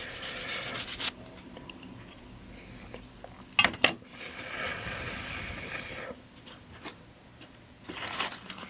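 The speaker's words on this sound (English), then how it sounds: "Contact cleaner." Contact cleaner sprays onto a Game Boy circuit board in a few short hissing bursts, with soft rubbing and handling noises between them, close and fairly quiet.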